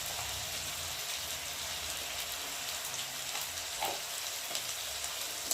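A spice paste with turmeric fries in a pan with a steady, dense sizzle like rain on a surface, continuous and fairly loud, with a few small pops and crackles.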